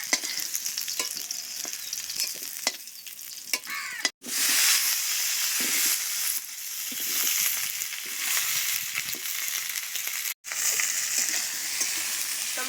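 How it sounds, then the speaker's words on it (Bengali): Tomatoes fry in plain oil with no salt or turmeric, crackling and sizzling continuously, with stirring scrapes and a couple of brief pauses in the steady hiss. "এবারে টমেটোটাও ভেজে নেব।"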